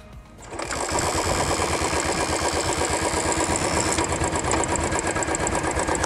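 A Royal Enfield Classic 500 motorcycle engine starts up and settles into a steady, loud, close thumping idle with an even rapid pulse, running alone without voices for about six seconds.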